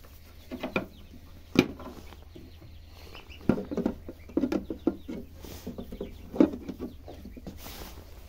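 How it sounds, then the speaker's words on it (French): Six young Toulouse goslings call from nearby, a scatter of soft irregular peeps and chirps rising and falling over a low steady background hum. "vous l'entendez derrière, il y a des petites oies."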